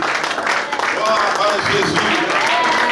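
A church congregation claps and cheers in praise in a big, continuous, loud wash of applause mixed with many voices shouting and singing.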